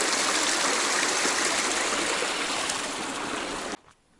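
Forest stream trickling and splashing over its bed, a steady close rush of water that fills the clip and then cuts off abruptly near the end.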